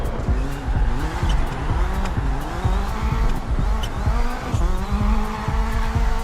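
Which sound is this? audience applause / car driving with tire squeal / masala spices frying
car driving with tire squeal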